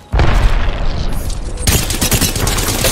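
Gunfire in the Apex Legends video game: a loud, dense barrage of rapid shots and booms erupts almost immediately and continues without a break, intensifying after the halfway point, close and without speech.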